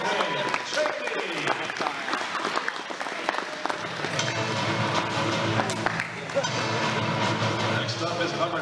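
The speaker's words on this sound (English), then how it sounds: "let's give a round of applause for number 55, Brandon Chaney." Audience applause at a high school senior night for the Palmyra Cougars, steady and sustained across the whole stretch, with crowd noise and a few voices mixed in.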